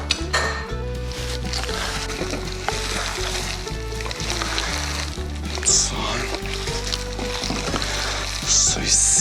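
Meat for a Chinese-style macaroni dish fries in a pan with a loud continuous sizzle and occasional clinks of utensils, while a person talks over it throughout.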